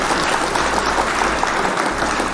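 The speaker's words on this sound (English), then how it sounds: "Clap for Monica, everybody." An audience gives Monica a round of applause, a continuous wash of many hands clapping that stays steady and full throughout, heard from within the crowd.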